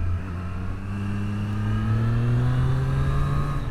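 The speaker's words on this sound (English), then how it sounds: "This is Moto 2 derived 765cc triple 12 valve engine." A 2023 Triumph Street Triple 765 RS with a Moto2-derived 765cc 12-valve triple engine pulls steadily under load, its rising drone rising smoothly in pitch as it accelerates, loud and continuous throughout.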